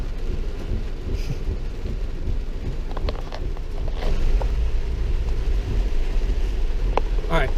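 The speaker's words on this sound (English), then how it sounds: "as you can see, the rain is pouring" Heavy rain pours steadily in Costa Rica in a dense, constant roar, with a few sharper spatters and knocks scattered through.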